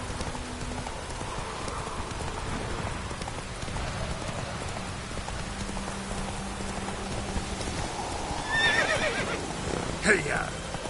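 A horse in the video game The Witcher 3 whinnies and clops along over a soft rainy background, faint at first, with a short louder burst near the end and no talking.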